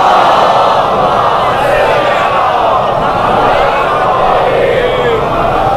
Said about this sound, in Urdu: بلند تر صلوات ممکن ہے تو ہدیہ کریں